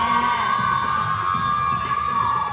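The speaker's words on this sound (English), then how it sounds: "Crowd enjoying that." A roller derby crowd at a Philly versus Kansas City bout cheers and whoops steadily for the full stretch, a dense wash of many voices including high shouts with no pauses.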